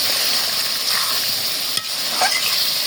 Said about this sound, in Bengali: পানি না দিয়ে আমি একটু ভালো মতো কষাই নেব